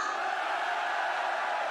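A concert crowd at Zepp DiverCity Tokyo cheers in a steady roar of voices for a short stretch, with no single voice standing out.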